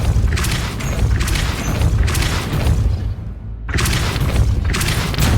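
The Depulso spell cast in Hogwarts Legacy, heard as a loud, dense booming blast of sound that fills the clip, with a short drop in level before the rumble surges back.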